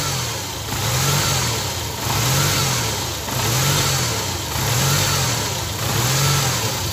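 Volkswagen Jetta engine with a throttle-body acceleration problem, revved by working the throttle plate by hand: five rhythmic rising-and-falling revs over a steady idle, close and loud, with no talk.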